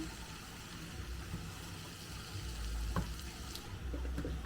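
Traditional vegetables are stirred in a hot pan, a soft continuous sizzle with scraping stirs and a few small clinks toward the end, close and steady without speech.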